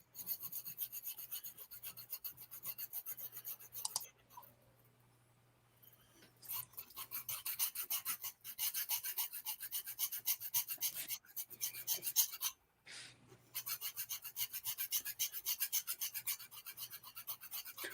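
Fine-grit sandpaper rubs in quick, rhythmic rasping strokes over a cast metal piece from sand casting, close and steady, with a few short pauses between bursts.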